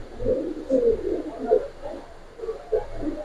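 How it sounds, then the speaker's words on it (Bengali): A male silver racer pigeon coos close by in soft, throaty bursts repeated every half second or so, with no other sound around it. "নটটা ডাকলে নটের চোখটা অনেক সুন্দর লাগে"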